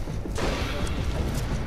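Explosions in the Far Cry 4 video game, a loud, dense burst of crashing blasts and rumbling debris that keeps going at full level from start to finish.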